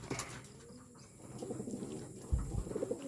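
Racing pigeons coo softly at their loft after a 130 km race, low murmuring calls repeating over quiet outdoor background, with a slightly louder burst of activity near the end.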